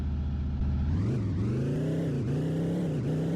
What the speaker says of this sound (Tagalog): nagdadrive ako sa motor